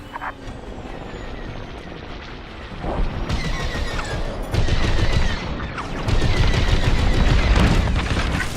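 Star Wars Squadrons dogfight: sustained rapid blaster fire and booming impacts rumble continuously, swelling in loud waves across the clip with no talking.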